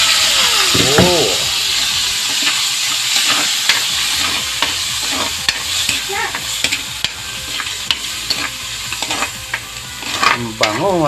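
Onions and garlic sauté in a pan, a steady close sizzle broken by scraping stirs of a utensil against the metal.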